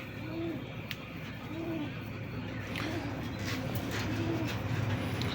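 Shirting pigeons, kept in pairs, give soft repeated coos, about four evenly spaced calls over a quiet background hum.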